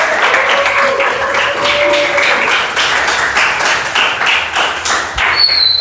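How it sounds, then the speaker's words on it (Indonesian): A seminar audience in Indonesia gives a loud, steady round of applause, many hands clapping together for several seconds, with a brief high ping near the end. "Mohon berikan tepuk tangan kepada pembicara kita yang hebat pada hari ini."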